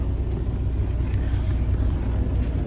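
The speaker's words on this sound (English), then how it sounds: "when I click buttons on here, I hear the engine." The Detroit diesel engine of a 2014 Freightliner Cascadia runs steadily at a low, even rumble, close and constant throughout, with no pauses or changes in pitch.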